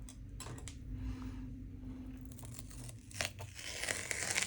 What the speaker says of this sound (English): Let's peel off the tape.